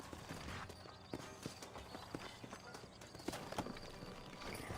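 Steady clip-clop of horse hooves trotting in Red Dead Redemption, with repeated rhythmic hoof strikes over a soft background wash; no talking.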